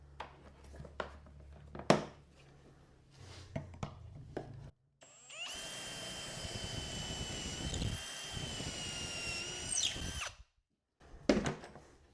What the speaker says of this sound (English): so I could drill a deeper hole